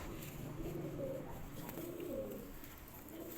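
Breeder pigeons in a loft in Islamabad, Pakistan, give soft, repeated cooing over a busy background hiss, moderately close and fairly quiet, with no one talking.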